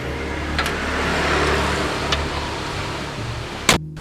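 A 1996 Toyota Kijang Grand Extra under restoration rumbles along on a test drive, its engine a low steady drone with road noise, a few light knocks and a sharp clunk near the end.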